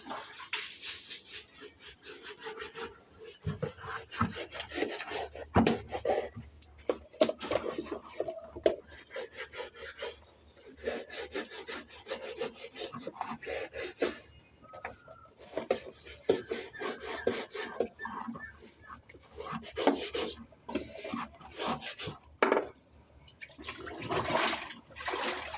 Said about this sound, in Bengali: এই যে জুতোটা, এটাকে একটু পরিষ্কার করে নেবো।